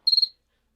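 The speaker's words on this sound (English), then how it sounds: "Those were really abrasive crickets." A single short cricket chirp, a quick high trill of about four rapid pulses, close and clear, then silence.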